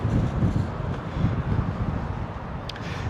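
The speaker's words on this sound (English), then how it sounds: "Getting pretty windy out here, which is not helping the fire at all." Strong wind roars continuously at a truck stop near a forest fire, a dense low rumble buffeting the microphone without letting up.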